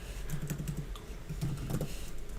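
Code is typed on a computer keyboard in quick close bursts of key clicks, a run of taps, a short pause, then another flurry.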